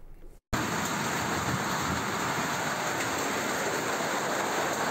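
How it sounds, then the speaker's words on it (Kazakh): Hail pours down in a rural village in Kazakhstan, a dense, steady, loud clatter that starts abruptly after a brief pause and continues unbroken with no talking. "Осындай бұршақ жауды ғой"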